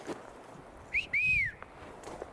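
Two clear rising-falling whistles, one short and one longer, from a person imitating birdsong in a quiet forest, heard close and alone.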